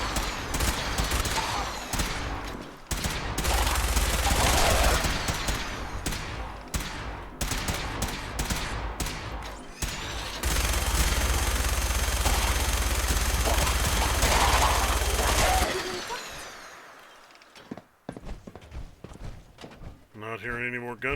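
Heavy gunfire in a modded survival session of the video game Fallout 4, with rapid bursts and shots from several directions that fall into sharp scattered reports and then trail off near the end.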